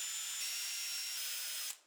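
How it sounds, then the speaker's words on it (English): A brief, steady high-pitched whirring of a power drill boring shallow screw-point holes in wood runs continuously for under two seconds, then stops abruptly. "After drilling very shallow holes for the screw points"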